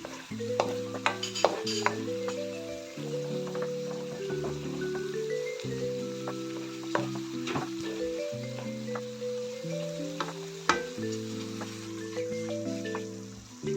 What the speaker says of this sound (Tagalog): Tapos, halu-haluin lang natin para ma-mix yung toyo dito sa ating niluluto.